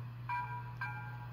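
A SoundTraxx Tsunami 2 Big Steam TSU-2200 decoder in an Athearn model locomotive rings its bell twice, two faint metallic dings about half a second apart, each above a steady low electrical hum.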